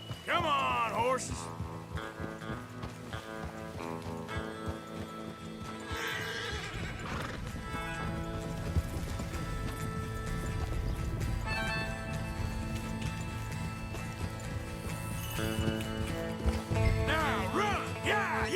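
Horses in the video game Red Dead Redemption 2 gallop with rapid clip-clop hoofbeats and repeated whinnies and neighs, loud and close throughout, while people shout and urge them on over the top.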